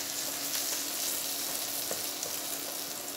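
Martabak telur fries in a little oil in a pan, a steady close sizzle and crackle with faint stirring scrapes, and no voices.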